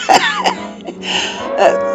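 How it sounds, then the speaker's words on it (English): Several harsh coughs and throat-clearing splutters in quick succession, close and loud, with a few wheezy gasps between them. "They would come out coughing and spluttering at the other end"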